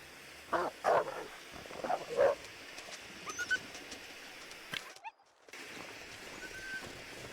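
A dog barks a few times in the survival video game The Long Dark, short yaps clustered early on over a low ambient background with a brief dropout later.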